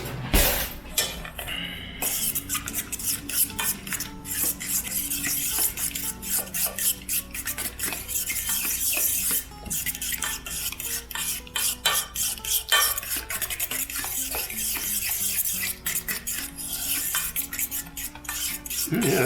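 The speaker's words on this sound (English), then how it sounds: "And stir to combine." A fork stirs and scrapes a smoky mixture in a pan, with dense, rapid metallic scratches and clinks close up, continuing steadily with brief pauses and no talk.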